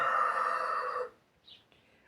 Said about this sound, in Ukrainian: Ох, і крик у нього з цього півня там.